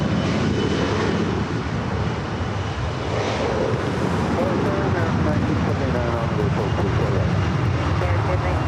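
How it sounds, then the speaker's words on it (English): CRJ regional jet airliner arriving at Los Angeles International Airport on a flight from Tucson, a loud steady engine roar with wind noise that holds throughout, close and continuous. "up next is that flight coming in from Tucson, Arizona, the CRJ."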